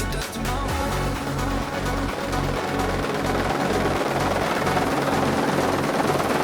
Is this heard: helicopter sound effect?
yes